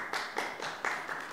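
Applause from a small audience at a municipal public hearing, a few distinct clustered claps in a loose rhythm, close and moderately loud.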